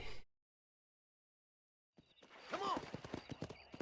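Horse galloping in the video game Red Dead Redemption, rapid hoofbeats that cut in after a stretch of silence, with a brief burst of sound at the very start.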